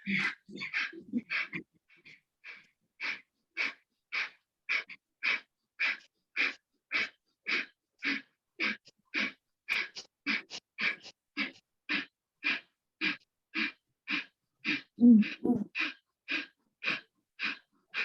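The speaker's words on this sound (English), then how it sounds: "do Kapalbhati for 40 times" Kapalbhati yoga breathing: a long, even run of forceful, sharp nasal exhalations, about two per second, close and clear against near silence, with a brief gasping breath late in the sequence.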